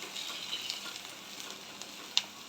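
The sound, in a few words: stirring okra (bhindi) frying in a pan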